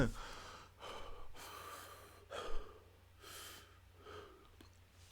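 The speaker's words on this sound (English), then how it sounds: "we're gonna do some breathing exercises" Deep breathing exercises taken up close: about six slow, rhythmic breaths, each a soft, airy rush of inhale or exhale, with quiet pauses between them and no talking.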